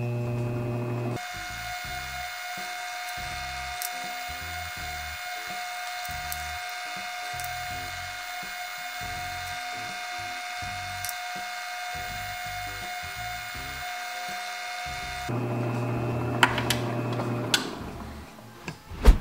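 Faceting machine cutting an aquamarine on an 8,000 grit diamond zinc lap, a steady motor whine with a rapid ticking chatter running close and even for most of the clip, then stopping near the end.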